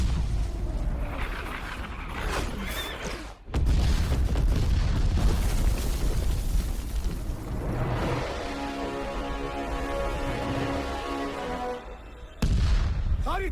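Cannon artillery booms through a film battle scene, with dense, continuous rumbling blasts and clatter filling the whole stretch. Two sharp breaks in the roar come near the middle and near the end, and there are hints of shouting voices underneath.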